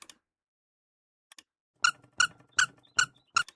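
A small squeaky object gives a few faint clicks, then five sharp, evenly spaced squeaks in quick succession, close and fairly quiet with no talking.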